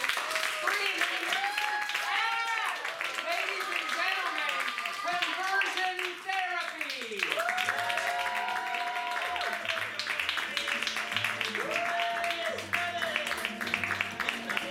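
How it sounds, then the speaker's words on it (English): A live audience at a Conversion Therapy show claps steadily throughout, a dense patter running beneath a host's amplified voice speaking over it. "Let's clap, guys."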